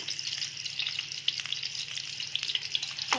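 Onions frying in hot oil for a dal tempering, a steady close sizzle and crackle with small pops, no talking.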